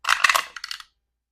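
Dice rolled in a savings dice game clatter in two quick bursts of hard rattling clicks on a surface, close and loud, then settle into silence.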